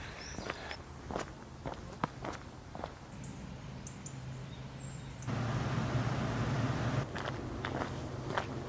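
Footsteps on a path beside Ogston Reservoir, a steady run of close crunching steps alone in quiet outdoor air, with a louder rushing spell partway through.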